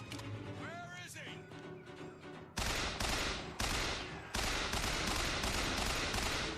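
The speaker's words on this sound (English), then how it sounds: "I have a machine gun so I can pick people up from distance" Bioshock Infinite machine gun fire: after a quiet stretch with a voice, loud sustained bursts of automatic gunfire start abruptly and repeat in clustered volleys, close and dominant.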